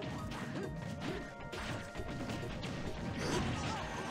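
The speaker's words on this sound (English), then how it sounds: "Hitting everyone with those up smashes" Up smash attacks land in Super Smash Bros, with repeated thumping whacks and crashes in quick succession over dense game noise and crowd din, fairly faint and continuous.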